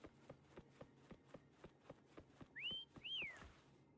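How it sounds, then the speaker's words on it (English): Two rising whistled notes ring out over a steady rhythmic tapping of footsteps in the video game Wuthering Waves, fairly faint and synthetic-sounding. "Try whistling."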